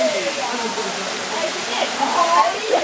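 A waterfall rushing steadily with a broad, constant hiss of falling water, with voices and playful sounds of people nearby rising above it.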